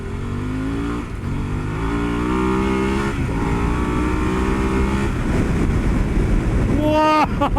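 A 2021 Harley-Davidson Pan America 1250 Standard motorcycle under way, its engine droning and climbing in pitch through the gears with heavy wind rush, ending in a sharp rev rise near the close.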